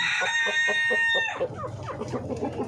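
A rooster crows loudly and close at hand, then chickens cluck in quick, busy bursts on a Filipino farm yard during breeding season.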